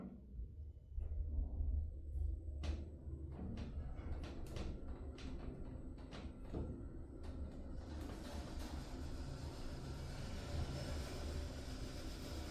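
A hospital lift in Derby travels upward, a low steady mechanical rumble and hum with scattered clicks and knocks from the car and shaft, faint and enclosed.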